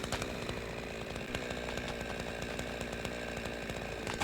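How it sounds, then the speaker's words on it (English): A chainsaw cuts steadily in the video game Goat Simulator, with a continuous buzzing, rattling engine drone and rapid ticking pulses, loud and close throughout. "So using the chainsaw will cause whatever you're cutting to become two smaller versions of that item."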